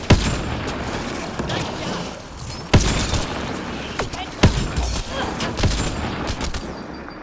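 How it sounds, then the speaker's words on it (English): Gunfire in the sci-fi shooter game Mass Effect Andromeda: scattered sharp shots and bursts over a busy, noisy combat backdrop, with speech mixed in. "Whomst precisely is shooting me?"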